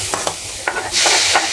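Onions frying and being stirred in a pan, with scraping stir strokes over a steady sizzle that swells louder toward the end; close and without talk.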